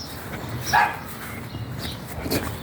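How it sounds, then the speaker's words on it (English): A dog gives a single sharp bark in a garden, with a softer yip following amid faint background noise. "doggy bark"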